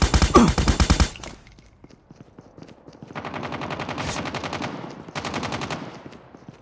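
Rapid automatic gunfire in Call of Duty Mobile, a loud dense burst at the start followed by two longer sustained volleys of fast shots, with no talking.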